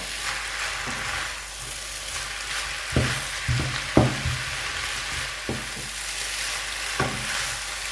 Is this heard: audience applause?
no